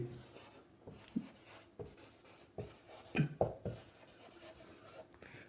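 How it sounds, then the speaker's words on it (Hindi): Chalk or marker scratching on a board while the word geometry is written, producing soft, irregular strokes and taps at a low level with faint background noise. "मैं लिख देता हूँ यहाँ पर ज्योमेट्री"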